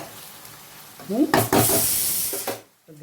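Chicken pieces fry in a hot pan, a loud close sizzle swelling into a burst of hissing as they are stirred, then fading abruptly, with a brief voice early on.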